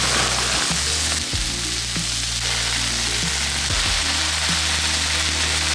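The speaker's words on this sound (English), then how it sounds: "I'm just gonna throw them all into a frying pan just with a little bit of non-stick" Black beans and green beans fry in a pan with a little non-stick coating, giving a steady, loud, continuous sizzle with faint clicks and stirring scrapes throughout.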